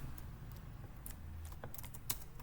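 Keys tapped on a computer keyboard in an irregular run of soft, close clicks, with a low hum underneath and no voices.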